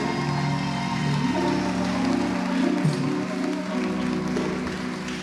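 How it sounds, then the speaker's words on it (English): A steady wash of applause from a large graduation crowd, dense and even, holding at the same level throughout with no voices standing out. "Give yourselves a big round of applause."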